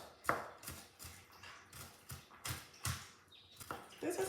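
A knife chops an onion on a cutting board in a home kitchen, a string of quiet, evenly spaced thuds that come in steady rhythm with no talking.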